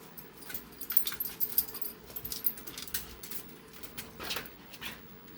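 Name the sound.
puppies whining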